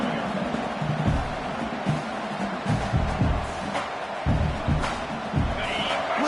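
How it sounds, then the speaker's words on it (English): A stadium crowd roars during a college football video game playoff matchup between Oregon and California, a broad rumbling cheer that swells and pulses in bursts beneath low, indistinct voices. "Listen to the crowd energy here in the early going."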